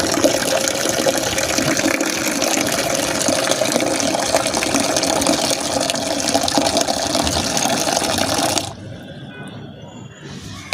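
Water filling a container for watering plants, a loud continuous gushing rush that runs steadily for most of the clip before cutting off abruptly into quiet.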